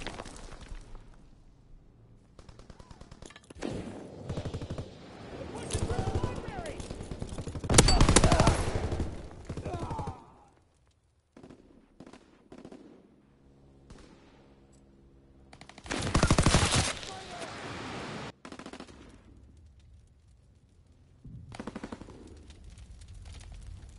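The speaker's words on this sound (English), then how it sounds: "Taking heavy fire." Heavy machine gun fire in a World War II shooter set in Cuba and Puerto Rico, coming in several loud sustained bursts separated by quieter stretches, with radio-style voices in between.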